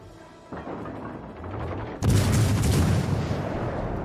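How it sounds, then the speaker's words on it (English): A naval gun volley booms out in World of Warships Legends, a heavy blast landing after a softer rumbling shot, then a thick rolling roar that lingers loudly. "Could kind of split up my shot and do half my volley at one location and half at another"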